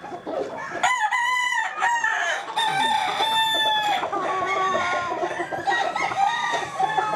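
A young stag rooster crows loudly and close, several drawn-out cock-a-doodle-doo calls in a row, with other chickens clucking around it.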